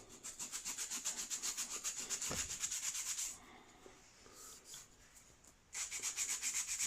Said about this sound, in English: It's got a bit of a sponge to it, so it forms around the part that you're sanding.